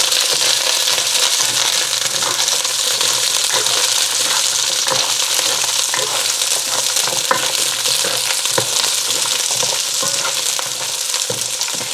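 Frozen butternut squash sautés in a hot pot, a loud continuous close sizzle broken by the clatter and scrape of the pieces being tossed and stirred.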